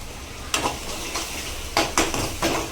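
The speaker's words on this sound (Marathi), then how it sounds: "हे आता मी असंच तेल सुटेपर्यंत परतून घेत आहे" Steady sizzle of spiced shev bhaji masala frying in a pan until the oil separates, with a few scraping strokes of a spoon or spatula stirring at irregular intervals.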